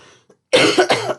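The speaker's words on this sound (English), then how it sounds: "that's one little cough." A single short cough, close and fairly loud, after a brief near-silent pause with a faint earlier sound.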